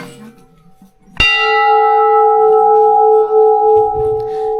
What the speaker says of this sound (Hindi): ये देखो घंटी है।